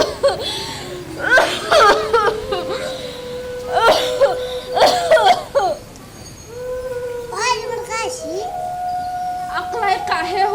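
A performer in an Assamese stage drama coughs several times in harsh bursts, mixed with spoken lines and laughter.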